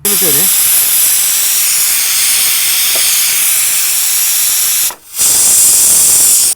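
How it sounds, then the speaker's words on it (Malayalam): A pressure cooker whistle: a loud, steady hiss of escaping steam blasts continuously, briefly cutting out near the end before resuming. "രണ്ടിലും ഓരോ വിസിൽ വന്നു കഴിഞ്ഞു"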